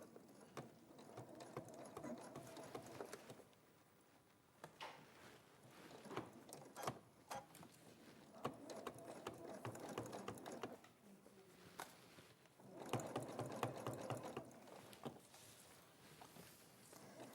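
A sewing machine runs in short bursts of stitching close to the edge of a bag, its quiet mechanical whir and rapid needle clatter starting and stopping across several passes, with small handling noises in between.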